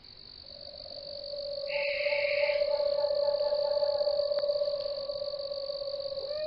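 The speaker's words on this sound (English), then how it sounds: "Just playing owl sounds." A synthetic owl call plays steadily outdoors, a long sustained tone with a higher warbling layer joining partway through, fairly faint and without voices.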